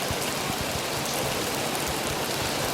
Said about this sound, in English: we can still hear the rain falling on the roof above us